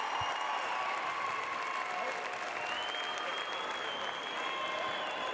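A Scotus Central Catholic crowd at a high school state volleyball championship, sustained loud applause and cheering filling a gymnasium, dense and continuous from start to finish.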